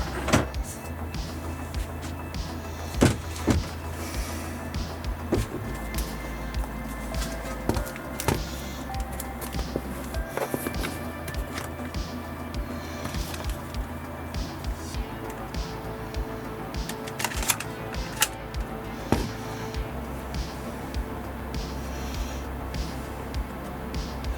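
A USB floppy drive works as a Compaq Evo N160 laptop boots: a steady mechanical hum with repeated faint ticks and clicks and scattered sharper knocks, close and continuous, with no talk.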